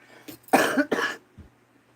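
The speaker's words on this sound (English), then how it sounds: "I decided to cough right there, like it was timed" Two sharp coughs close to the microphone, one right after the other, followed by a faint throaty sound.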